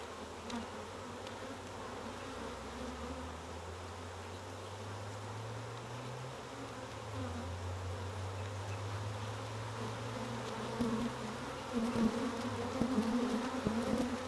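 Honey bees swarm around an opened hive, producing a steady, dense droning buzz that stays close and fills the whole stretch, growing slightly louder toward the end, with no talking.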